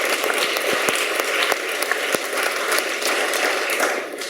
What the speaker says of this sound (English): So give Tiffany another round of applause.